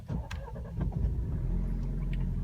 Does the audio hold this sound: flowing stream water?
no